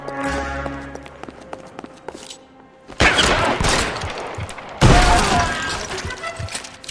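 Shotgun blasts in L.A. Noire ring out as a few loud, sharp reports with crashing, shattering debris, preceded by quieter ambient tones, no talking.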